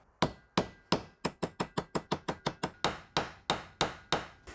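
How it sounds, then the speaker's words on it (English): A hammer taps universal joint bearing caps into place on a Toyota Land Cruiser 80 Series in a steady series of about sixteen sharp, ringing strikes, quickening in the middle and then slowing again. No voices are heard. "We're going to tap those bearing caps in with the hammer."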